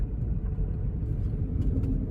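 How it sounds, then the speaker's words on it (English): An old, heavily rusted car that sat unused for years, driving slowly with a steady low engine and road rumble and faint creaks and clunks from its suspension mixed in, with no talk. "We got some suspension noises."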